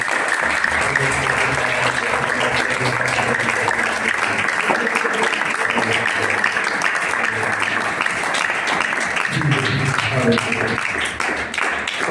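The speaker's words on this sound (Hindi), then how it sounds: "आज वचन दे लिए खुदा दास के लिए जोरदार ताली के साथ स्वागत करें" Loud, sustained applause from a congregation at a Sunday prayer meeting fills the room to welcome a pastor, a dense wash of clapping holding steady for about twelve seconds with a faint hum of voices underneath.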